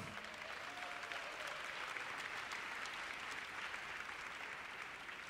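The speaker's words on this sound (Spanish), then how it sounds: "le honramos con un aplauso" Audience at a church conference on discipling nations applauds steadily for about five seconds, a faint, even wash of clapping heard from a distance with no voices over it.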